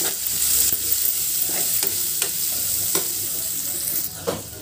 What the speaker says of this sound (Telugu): ఒక ఉల్లిగడ్డ కొంచెం పసుపు వేసుకున్నాము అంటే వేసి కలిపి ఒక రెండు మూడు నిమిషాలు ఫ్రై చేద్దాం